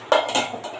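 A metal lid set down on a cooking pot while golmarich chicken cooks, giving a sharp clink followed by a short ringing rattle as it settles, close and fairly loud.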